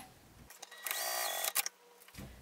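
Sewing machine stitches along the bottom seam of a fabric wallet in a short, close burst of about a second and a half, between quiet pauses.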